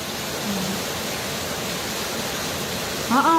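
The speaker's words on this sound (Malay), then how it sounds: "Puan Noriza, tempat cikgu hujan ke? Ya, hujan" Steady rain hisses throughout, an even wash of noise with no breaks, and a brief high chirp sounds right at the end.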